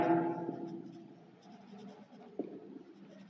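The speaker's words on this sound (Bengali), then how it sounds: "চলো তাহলে একটা বাক্য আমরা লিখি।" A pen or pencil writes an English sentence on paper, with soft scratchy strokes close by, a few slightly firmer taps among them, and no talking.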